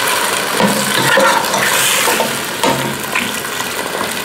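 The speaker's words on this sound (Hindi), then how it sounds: "अब हम इसमें दूध डाल देंगे और पानी मिला" Milk and water are poured into potatoes and fenugreek frying in a pan, producing a loud, continuous splashing sizzle that slowly settles, with no talking.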